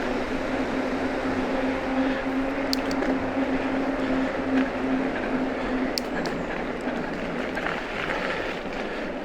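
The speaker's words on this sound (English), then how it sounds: "it's the train down the valley. Diesel engine obviously" A distant diesel train rumbles steadily across the Tamar Valley, a low droning engine hum under wind noise with faint clanks, no talking.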